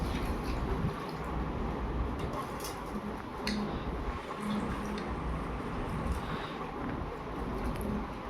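Black urad dal is washed by hand in a pan of water, giving a steady close wet swishing and squishing with small drips throughout.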